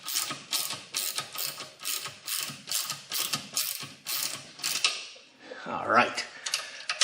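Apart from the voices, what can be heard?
Harbor Freight ratchet tightening bolt on Supra rear subframe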